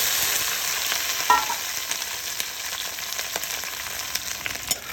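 Okra fries in well-heated oil with a loud, steady hissing sizzle and a few soft crackles and pops, heard close up with no voices.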